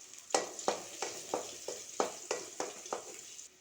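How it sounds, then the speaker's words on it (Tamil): Crushed garlic cloves sautéed in a kadai, about ten rhythmic scraping stir strokes over a quiet sizzle, each stroke a distinct close swish roughly every third of a second, no voices. "ஒரு பத்து பல் பூண்டை மசித்து வச்சுருக்கேன் அதையும் போட்டு நல்லா வதக்கிடலாம்"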